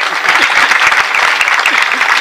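An audience claps together at a comedy kirtan by Shivlila Tai Patil, producing dense, steady applause that fills the whole short stretch without a break.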